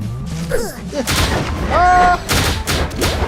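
Bombs in the video game Bombergrounds Reborn go off in a series of sharp blasts and thumps amid game sound effects, with excited players talking over them.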